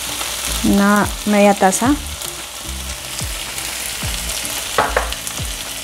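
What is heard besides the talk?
tomato purée added to a frying pan, sizzling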